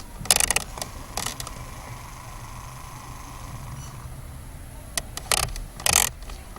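A repaired car air conditioning control unit's flap actuator running, a faint steady whir for several seconds, broken by sharp clicks and bursts of handling noise near the start and end.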